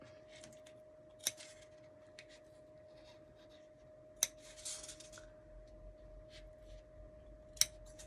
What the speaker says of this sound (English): I can use my scissors to make that a little bit bigger.